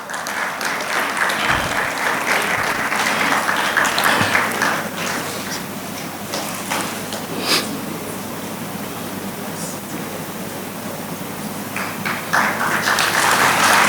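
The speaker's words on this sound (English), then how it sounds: "Please give him a very, very hearty round of applause." An audience at a law conference session applauds a senior advocate being introduced. Dense, continuous clapping runs the full length with slight swells.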